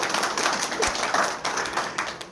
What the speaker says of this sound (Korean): 그럼 박수 한번 쳐주십시오